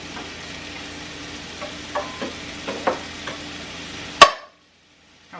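Eggs cooking in melted butter in a pan, a soft steady sizzle with occasional stirring clicks and scrapes, ending in one sharp clack before near silence.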